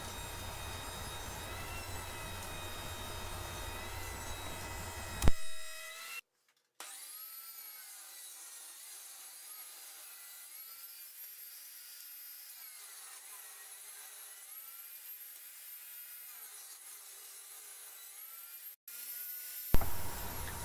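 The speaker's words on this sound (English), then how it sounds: "So you can see right now I'm going through the planer." A wood planer sizes boards, a loud steady whine of cutter heads with a dense rushing hiss as a board feeds through, a short gap between passes, then the rough running tone resumes until cut off.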